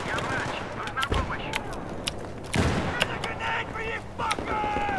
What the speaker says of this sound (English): Someone's spamming nades at me